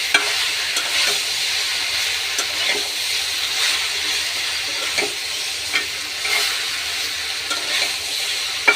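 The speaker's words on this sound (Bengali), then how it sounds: "এখন আমরা এটার মধ্যে বড়ইটা দিয়ে বড়ইটা ভেজে নিব" Jujubes (boroi) frying in oil in a pan for pickle, a steady close sizzle with occasional scraping clicks as the fruit is stirred.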